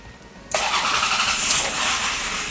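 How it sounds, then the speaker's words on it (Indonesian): A 2000 Toyota Harrier 3.0 SUV with automatic transmission starts up: a half-second of quiet, then the engine catches abruptly and settles into a loud, steady run close by, with no one talking. "Kita mulai dari startup engine."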